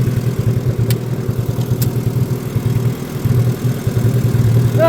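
A lawn mower engine runs loud and close while cutting grass on a spring day, a steady throbbing idle-like chug that continues evenly throughout without voices.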